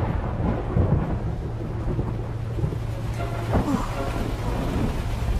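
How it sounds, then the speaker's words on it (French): A rainstorm with thunder: low rolling rumbles over a constant hiss of falling rain, steady and fairly loud, with no voices. "je suis pas une grande fan de la pluie"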